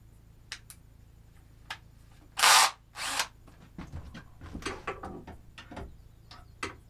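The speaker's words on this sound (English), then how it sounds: "Here's the drill extension I needed that I got from a friend last night." A power drill fitted with a drill extension during a solar install at a cabin: two short, loud whirring bursts, followed by scattered clicks and handling knocks in a quiet room.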